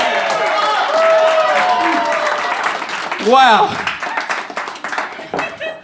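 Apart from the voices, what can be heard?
audience applause at a live comedy show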